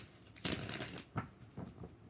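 Tarot cards are shuffled in a few quick, soft papery bursts, near and fairly quiet, with short pauses between them.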